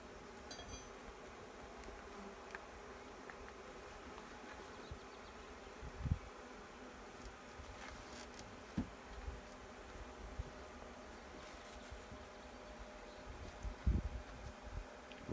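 Bees fly around outdoors with a faint, continuous humming drone and occasional soft knocks and rustles in the background.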